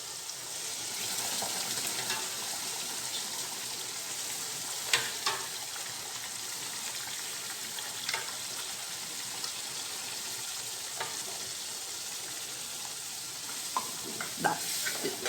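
Black dal poured into a pan of tomato tempering sizzles steadily as a spoon stirs it, with faint scrapes and clinks against the pan, close and continuous.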